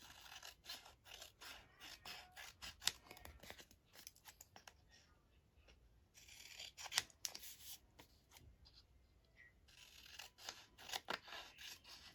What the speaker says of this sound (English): Just cut around that and we'll put a backing on it.